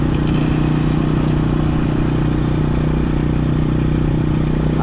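Motorcycle engine running steadily while riding around a neighbourhood in Malaysia on an evening after rain, a loud, constant low hum with a faint clatter and no voices.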